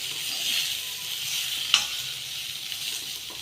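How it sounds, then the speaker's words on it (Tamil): Spices are tempered in a hot pan for a home lunch, giving a steady, soft hissing sizzle throughout, with one brief clink partway through. "லைட்டாக தாளித்து விட்டு வதக்கினா போதும்."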